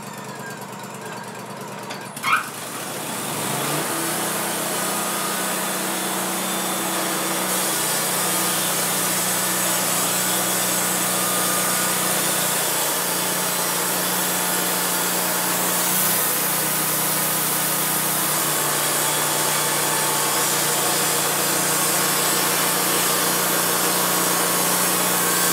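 A small in-house sawmill cutting wood: after a brief click, the machine starts up and settles into a loud, continuous droning roar with subtle shifts in pitch as the cut proceeds, with no voices.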